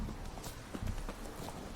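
Horse hooves clip-clopping at a steady galloping rhythm in The Witcher 3, a run of fairly quiet, close thuds over a low game soundscape.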